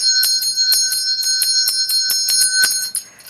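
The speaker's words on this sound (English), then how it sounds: "Second line, you ring the bell at the heart." A small handheld Buddhist puja bell rung steadily at close range, a rapid series of bright ringing strikes with sustained shimmering tones, then fading out at the end with no talk.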